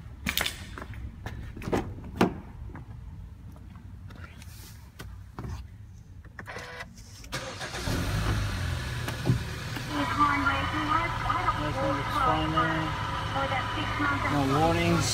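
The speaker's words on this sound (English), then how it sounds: "start the car once quickly." A Hyundai Sonata engine cranks and starts after a spark plug change, settling into a steady idle for the second half, preceded by quieter clicks and handling noises.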